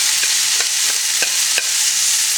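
Amchur masala and salt are stirred into pommecythere in a pot, with a few spoon scrapes every half second or so over a steady sizzling hiss. There is no talking.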